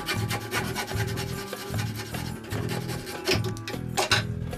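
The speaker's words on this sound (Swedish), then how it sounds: "Och så sågar ni av 50 cm av plaströret." A small hand saw cuts through plastic electrical conduit while building a flute, giving a steady rasping back-and-forth rhythm of strokes, close and continuous, with no talking.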